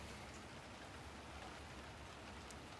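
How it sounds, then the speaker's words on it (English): Steady rain falls continuously in the game Golf Clash, a dense, even hiss of drops on surfaces with no pauses or voices. "Yeah, it is raining."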